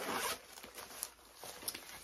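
A quick zipper on a tote bag being pulled open, close and soft, followed by faint rustling of fabric.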